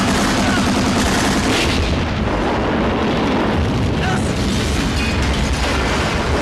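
Loud, dense rumbling blast noise from a World War II film battle between German and Soviet soldiers fills the whole stretch, with crackling bursts like gunfire and explosions.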